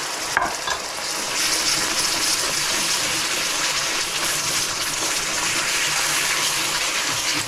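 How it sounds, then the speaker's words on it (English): Boiling water pours into a potato roux in a pot, giving a steady rushing, bubbling sizzle that holds fairly loud and even from start to finish with no talking. "I'm just going to add some boiling water to the roux from the potatoes."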